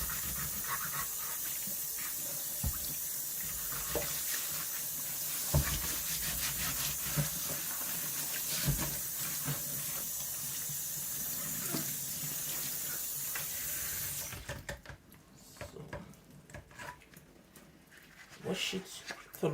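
Yam pieces washed under a running kitchen tap, with a steady hiss of flowing water and rubbing and splashing for most of the stretch, then the stream cuts off, leaving scattered handling noises.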